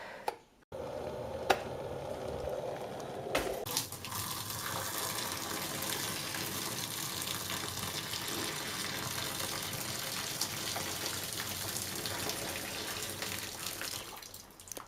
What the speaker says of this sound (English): I'm going to pour that down the plug hole